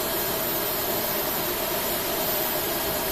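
An A321 jet engine running in the FSX flight simulator, a loud, steady broadband roar with a high whine on top, constant and alone with no voices.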